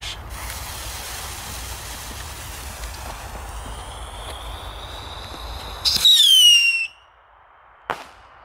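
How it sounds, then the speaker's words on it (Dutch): Moon Traveler firework rockets with silver tails launch with a sustained rushing hiss and a rising whistle, followed by a sudden louder burst and then a small, sharp bang a moment later. "Het zijn dus pijltjes met een zilverstaartje en een klein knalletje."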